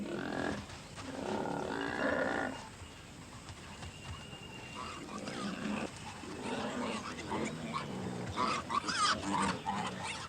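Wild pigs with slashing tusks attack a leopard in a Nepal tiger sanctuary, with rough animal snarls, grunts and scuffling thuds in bursts over a narrator's voice.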